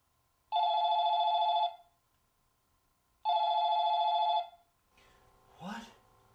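An old-style telephone bell rings twice in long, even bursts of about a second each, close and clear, then a voice speaks briefly afterward.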